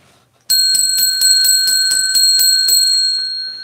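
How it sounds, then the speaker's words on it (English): A bright metal bell rung repeatedly in a fast, even series of clear strikes, loud and close, with ringing tones that sustain and slowly fade after a brief quiet start. "I'm going to ring the bell."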